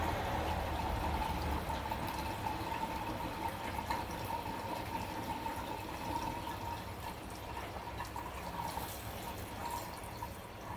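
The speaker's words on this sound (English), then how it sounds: "It's almost like pouring gold down your into your gas tank." Gasoline pours into the gas tank of a Briggs & Stratton replacement engine, a continuous soft gurgling trickle of liquid that runs steadily at low volume without speech.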